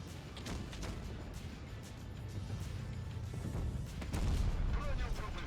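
Heavy tank cannon booms from a World of Tanks Blitz battle ring out over a dense, rumbling background, with a louder blast near the end; a voice talks throughout.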